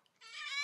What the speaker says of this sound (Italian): Buongiorno, gatto Denver!